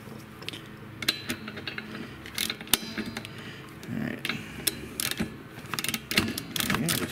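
A 5/8 plug wrench turns and ratchets to remove the spark plug from a Toro Recycler 22-inch mower, with close metallic clicks, creaks and scrapes in an irregular rhythm.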